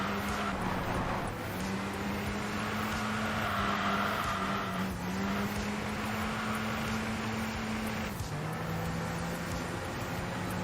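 A Jaguar race car engine in the racing game Enthusia Professional Racing drones steadily at a moderate level, its pitch rising and dropping slightly through gear changes, with continuous road and wind noise and no talking.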